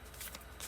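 Tarot cards are shuffled by hand in a short, faint riffling rustle of paper, brief and continuous without speech.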